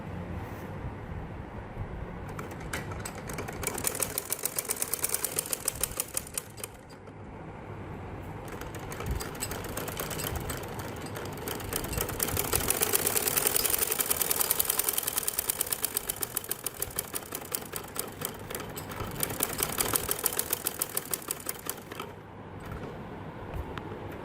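Sewing machine stitching a pair of men's Bermuda shorts, running in repeated rapid mechanical bursts with brief pauses between seams, close and fairly loud with no talk.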